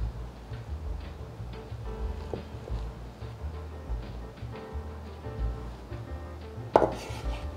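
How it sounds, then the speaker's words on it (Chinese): A knife chops soaked, softened shiitake mushrooms into chunks on a cutting board, giving a quiet, steady series of close taps with a sharper knock near the end. "把香菇切成块状。"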